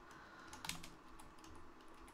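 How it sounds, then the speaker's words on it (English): Quiet, steady typing on a computer keyboard, a run of soft, irregular key clicks with one slightly sharper tap, heard alone at low volume. "I'm typing like over here"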